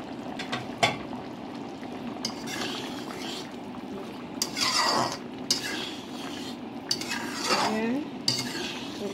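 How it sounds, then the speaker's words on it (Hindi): Veg manchurian balls are stirred into sauce in a kitchen pan, with a spoon scraping and clinking against metal in scattered bursts over a faint background. "सारे बॉल को डाल के इसमें मिक्स कर देंगे।"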